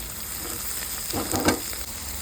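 Ginger-cumin paste hits hot oil in a pan after garlic, a steady sizzle that swells into a brief louder burst of frying, with no voices.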